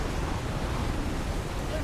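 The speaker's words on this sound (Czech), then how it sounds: "Jo, pozor, to je i vír, jo." Ocean waves and a whirlpool in the video game Assassin's Creed Freedom Cry rush as a steady, loud, broadband wash of surf and wind with no break.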